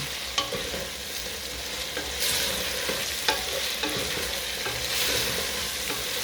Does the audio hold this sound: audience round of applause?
no